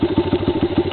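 A motorcycle engine idles close by, a steady low, lumpy chugging pulse repeating about eight times in under a second.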